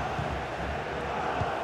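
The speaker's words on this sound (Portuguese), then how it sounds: "Olha a insatisfação da torcida, Vilani." A stadium crowd in the FIFA 23 football video game murmurs and grumbles in discontent, a steady, diffuse roar filling the background without clear cheers.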